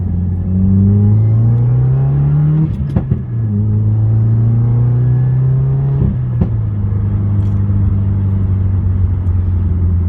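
A 2015-or-later Subaru WRX fitted with a COBB intake pulls hard in second gear, its engine drone rising steadily, dropping briefly at a shift-like break near three seconds, then climbing again, loud and close throughout.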